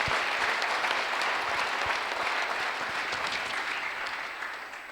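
A church congregation at a Sunday service claps in sustained, dense applause that fills the room, holding strong before easing slightly toward the end, with no voices on top.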